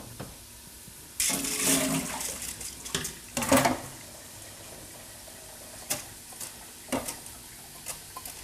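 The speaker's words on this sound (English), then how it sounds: "I'm going to strain the rice and the tur dal." Soaked rice and tur dal are strained in a kitchen, with a rush of water pouring through a strainer followed by scattered clinks, taps and drips, close and without talk.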